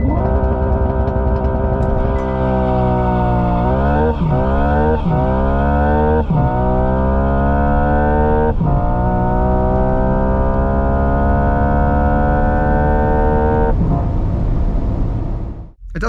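Hyundai IONIQ 6 N electric car running its N-Grin boost with simulated gear shifts: a loud, continuous synthetic engine drone climbing in pitch, broken by several distinct shift dips around the first half, then holding steady before cutting off.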